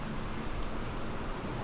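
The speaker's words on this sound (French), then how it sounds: "Cette belle pluie battante." Heavy pouring rain on a motorcycle trip in Korea, heard as a constant dense hiss of falling water across the whole short stretch, fairly faint and even, with no voices.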